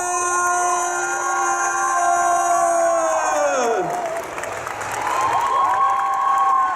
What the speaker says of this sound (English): Give them all of your magic, all of your applause, all of your love